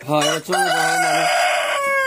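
A tiger-breed rooster on a farm crows loudly and close in one drawn-out call, with a brief cluck at the start.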